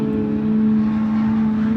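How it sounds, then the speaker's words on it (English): A Porsche straight-six race car in the Super Touring Under class at the SCCA Runoffs at Virginia International Raceway, its engine missing and misfiring. It drones as a steady, fairly loud tone with no clear breaks and no voices. "I heard a lot of misfiring out of what sounded like a Porsche straight six just there."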